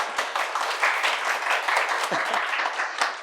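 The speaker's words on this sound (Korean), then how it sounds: "그래서 박수 한번 칠까요?" Clapping from students in a math academy classroom, a dense, continuous round of applause from a small group, moderately loud and steady for several seconds with no talking over it.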